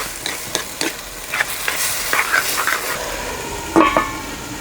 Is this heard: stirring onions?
yes